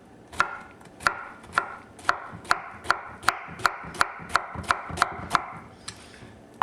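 A knife chops through fresh pineapple on a cutting board while pineapple salsa relish is prepared, giving about a dozen crisp, evenly spaced knocks in a steady rhythm, close and clear, with no talking.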